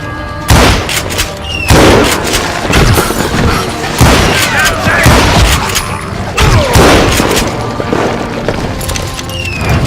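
Loud, repeated gunfire and booming blasts from the Call of Juarez Gunslinger video game, with heavy shots going off every second or two amid crashes, while a voice comments over the action.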